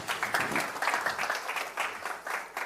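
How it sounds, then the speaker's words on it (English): An audience gives a warm round of applause, with dense, lively clapping rising and falling in waves, close and fairly loud throughout. "A warm round of applause"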